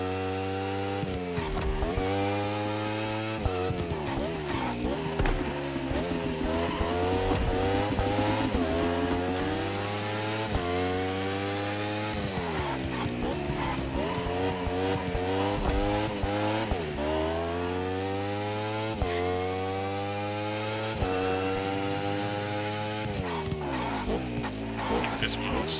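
A racing motorcycle in The Crew Motorfest roars through a race, its engine climbing and dropping through repeated gear shifts in loud, sustained sweeps, with a voice heard now and then over it.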